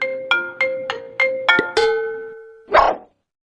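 A phone ringtone plays as a quick series of evenly spaced electronic chimes, then holds a longer sustained tone before a short noisy burst at the end. No voices are heard.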